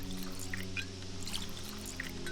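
Blood pours in Pathologic 2 with a soft, continuous liquid trickle and a few small splashy bubbles over a steady low droning hum, with no talking.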